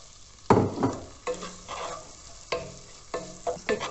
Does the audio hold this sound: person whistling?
no